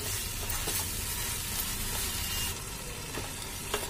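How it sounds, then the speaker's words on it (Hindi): Mushrooms fry and are stirred with masala in a pan for cashew mushroom masala, a steady close sizzle broken by occasional light stirring scrapes and no speech. "मसाले के साथ 2 मिनट तक भून लेते हैं"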